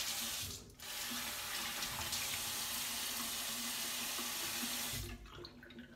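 Tap water runs steadily into a sink while a face is wetted before a shave, a close, continuous splashing hiss with brief interruptions near the start and end.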